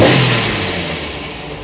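A Jaguar Series 1 E-type engine idles with a steady, close mechanical drone after a brief fading rev.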